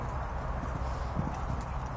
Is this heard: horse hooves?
yes